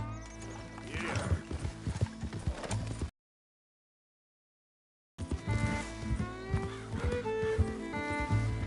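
A horse gallops in the Red Dead Redemption 2 video game, its hooves clip-clopping in a steady rhythm with a whinny, under music, broken by a two-second silent gap.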